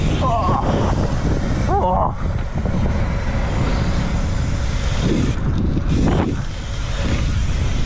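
Strong wind blows across the microphone at an outdoor pumptrack, a steady loud roar filling the whole stretch, with a few brief voice sounds mixed in.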